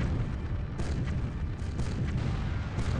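Tank cannon fire in the N64 game Battle Tanx, heavy booming shots that run almost continuously over dense, loud battle noise, with several sharper bursts standing out.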